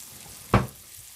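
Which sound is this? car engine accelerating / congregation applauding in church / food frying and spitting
food frying and spitting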